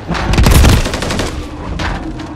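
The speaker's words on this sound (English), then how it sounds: "I'm taking effective fire." Loud, close gunfire in Modern Warfare 3 Warzone online play: a dense burst of rapid shots at the start, then scattered cracks and echoing fire trailing off.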